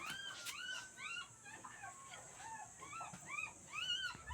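Several puppies whimper and yip in high, rising cries, repeated in quick overlapping bursts at moderate distance over a faint steady background hum.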